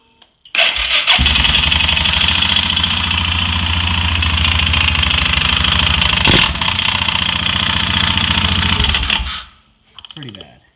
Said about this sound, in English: Figure I'd fire her up one time for the camera.